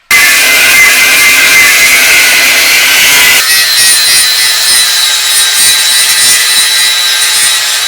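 A Jeep YJ steel cross member being sawn and cut up on a workbench, a loud continuous rasping cut whose pitch and texture shift partway through, close up with no talk.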